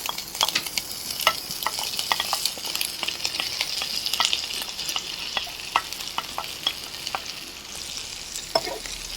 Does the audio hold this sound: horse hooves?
no